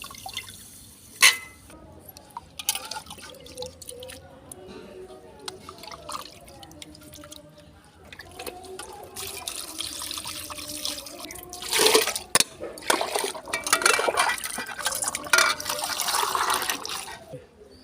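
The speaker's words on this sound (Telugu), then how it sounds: "కడుక్కోవాలండి నీట్గా చూడండి నీట్గా కడగాలండి ఇది రొయ్యలు" Prawns being rinsed in water for a gongura prawn curry, with intermittent drips and splashes that grow into louder, busier sloshing bursts toward the end while someone speaks now and then.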